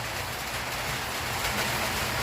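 Rain falls steadily on a rainy day where cats shelter, a constant, even hiss of drops that fills the space without pause or voices.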